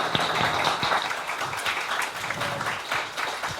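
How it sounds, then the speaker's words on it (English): A science-communication competition audience claps for speaker Emily, giving a steady, moderately loud round of applause with uneven bursts throughout. "round of applause for Emily, please?"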